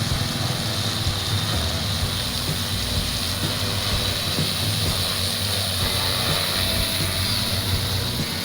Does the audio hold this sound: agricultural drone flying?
yes